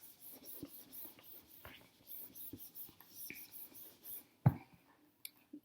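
Black marker squeaking in short strokes across a board while a quiet voice talks, with a sharper tap near the end.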